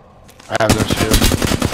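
Machine gun fire from a shooter video game opens after a brief lull and runs as a rapid, loud burst of evenly spaced shots, with a voice speaking over the start.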